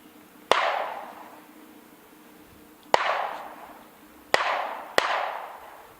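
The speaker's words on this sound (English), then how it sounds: "Neighbors are shooting." Neighbours' shotguns fired outdoors at a distance, four sharp reports with rolling echo tails, irregularly spaced, heard near beehives in an otherwise quiet setting.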